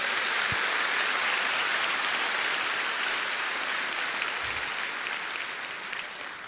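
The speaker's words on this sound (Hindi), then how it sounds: "एक जोरदार ताली दीजिए ऊपर वाले उस ईश्वर के लिए।" Audience applause at an Amway event, a dense even wash of clapping that stays steady and fades slightly at the end.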